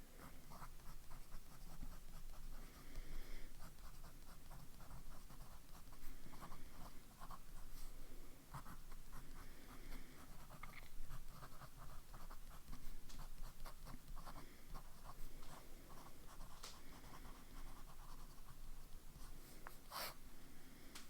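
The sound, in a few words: fountain pen writing, Lamy Al-Star fine nib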